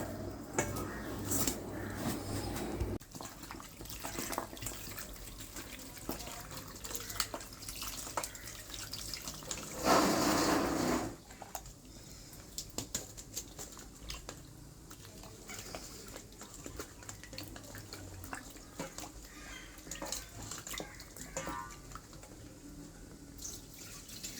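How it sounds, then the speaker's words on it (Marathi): Running water splashes and patters steadily into a basin as mutton trotters are rinsed by hand, with one louder gush partway through. "चार पाण्याने धुईल आता"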